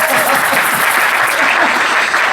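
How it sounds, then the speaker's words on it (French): A church congregation claps in dense, steady applause throughout, loud and close, with no pauses and no clear voices. "Acclamons pour la blague."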